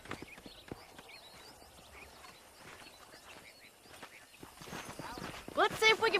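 Horses in Red Dead Redemption clop along with soft, uneven hoofbeats under faint ambience, then a louder burst with a whinny-like cry closes the moment. Voices are heard.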